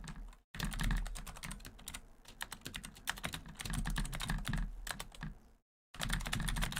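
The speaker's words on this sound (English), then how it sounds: "I apologize for the super loud keyboard, but that's how my equipment is." Loud clattering keystrokes on a computer keyboard, rapid and continuous with brief pauses, close and dry with no voices.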